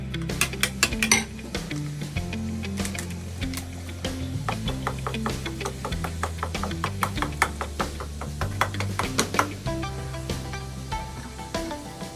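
A spoon mixes yogurt, ginger paste, garlic paste, nut paste and fried onion paste with roast spices in a bowl for chicken roast, scraping and clinking against the bowl in a fast, steady rhythm, close up with no talking.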